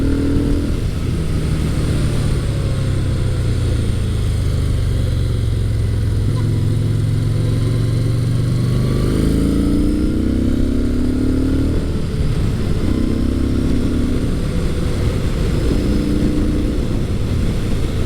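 A Yamaha SCR950 retro scrambler motorcycle being ridden, its engine droning loudly and continuously close by, with several rising and falling pitch sweeps as it shifts and accelerates and wind noise throughout.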